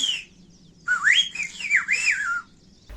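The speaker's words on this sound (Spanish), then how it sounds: "Ahí silbó: David, me voy a Chinamada" A man from Las Carboneras in Anaga, Tenerife, whistles a short message in the Silbo whistled language: one clear, sliding whistled phrase of rising and falling pitch lasting about a second and a half, alone against quiet.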